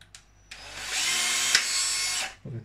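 An electric drill bores into aquarium glass under a small trickle of cooling water, a loud, steady high whine that starts abruptly, holds for nearly two seconds and then cuts off.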